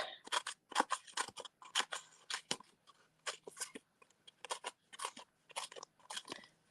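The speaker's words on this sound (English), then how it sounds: "So I just take my snips and cut" Snips cut through sheets of dimensional adhesive pads in a rapid run of close, crisp snipping crunches, each lasting a fraction of a second, with brief pauses between bursts. No voice is heard.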